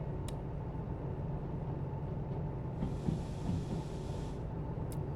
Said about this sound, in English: Loud train noises.